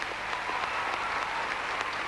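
Crowd at a 2000 Pacific Alliance Championships women's gymnastics event final applauds a floor routine set to Waltzing Matilda, a steady wash of clapping heard from a distance and continuing throughout.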